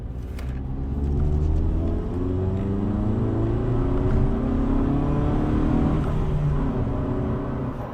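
Vauxhall Astra estate with a 2.0 16v turbo engine pulls hard with a steady, muffled drone and a faint induction note, heard from inside the cabin, continuous and moderately loud with no talking.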